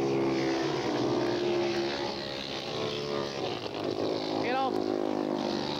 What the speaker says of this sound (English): it's a whole brand new sound when we get all those four-strokes out there